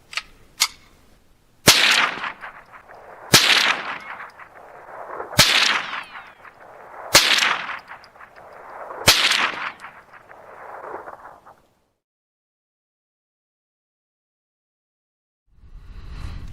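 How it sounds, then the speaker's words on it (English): A Ruger 10/22 firing CCI Uppercut .22 rounds: six sharp, loud cracks spaced about every two seconds, each trailing a long ringing echo. Silence follows, then faint background sound returns. "So let me get set up, fire 5 rounds."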